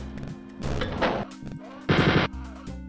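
Sustained bursts of gunfire in the video game Wolfenstein 3D, loud, harsh and close, with two longer volleys and shorter shots between them over a steady electronic hum.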